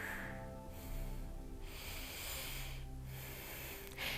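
Slow, deep breathing during a gentle floor exercise for period pain, with soft hissing inhales and exhales alternating in a steady rhythm, close and quiet.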